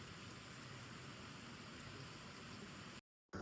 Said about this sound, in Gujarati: અત્યારે ફૂલ વરસાદ આવવા માંડ્યો છે